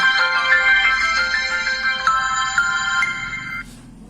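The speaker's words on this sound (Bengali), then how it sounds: "এখন আমি আপনাকে হচ্ছে এই ফোনটা একটু চালু করে দেখাচ্ছি" A VMAX V51 button mobile phone plays its electronic startup melody up close, a bright chiming tune of a few seconds that stops abruptly.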